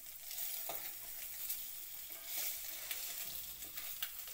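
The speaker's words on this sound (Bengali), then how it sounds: "ডিমগুলো ভালো করে ভাজা করতে লাগবো।" Eggs sizzle steadily in hot oil in a pan, seasoned with a little salt and chili powder for a Bengali mustard egg dish, with occasional soft stirring scrapes over a continuous close hiss.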